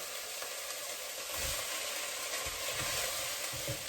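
Finely sliced celery frying with sweated onions and garlic in a pan for steak and ale stew, a steady broadband sizzle throughout with a few soft stirring knocks, no talk.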